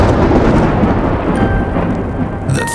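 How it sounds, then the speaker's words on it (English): Deep, loud thunder rolls continuously, a dense booming rumble filling the space without pause, with a faint tonal hum entering near the end. "The thunder."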